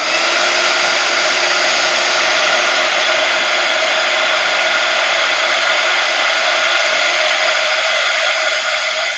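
A heat tool blows hot air onto curled shrink plastic in an art studio, a loud, steady, close-up whirring roar that holds unbroken from start to finish with no talk.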